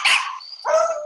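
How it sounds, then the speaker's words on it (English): A dog gives two short, sharp barks in quick succession, close and clear with nothing else in the background. "That's another dog barking."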